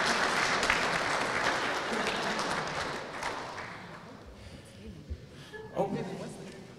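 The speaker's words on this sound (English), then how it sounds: "A round of applause for Mr." Applause from a graduation ceremony audience at a mine site, dense and steady at first and then thinning out toward the end, with a few scattered claps and some faint voices in the background.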